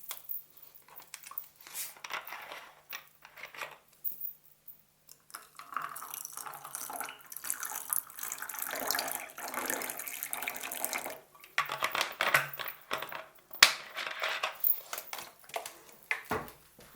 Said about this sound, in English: Sparkling water.